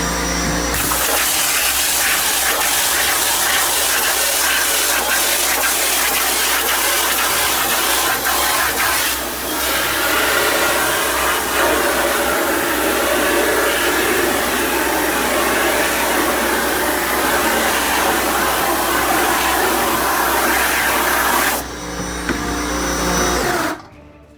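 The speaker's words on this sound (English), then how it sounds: "Hit both sides of all those screens with the pressure washer to get that haze off of there." A pressure washer sprays haze remover off screen printing screens, a loud, steady hissing roar that runs nearly unbroken and then cuts off abruptly near the end.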